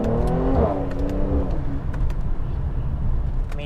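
Mercedes C43 AMG engine pulling hard under acceleration, a loud steady rising drone with rich harmonics that climbs in pitch over the first second and a half, then settles into a sustained rumble from inside the cabin.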